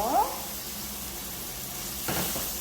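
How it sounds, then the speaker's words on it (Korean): Low, steady sizzling of shredded beef stir-frying in a pan, with a brief scrape of stirring near the end. "고기채를 볶는 거죠"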